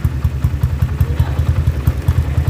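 A motorcycle engine chugs and thumps in a quick, uneven rhythm as the clutch is let out and the bike pulls away. The running is jerky and the engine sounds close. No one speaks.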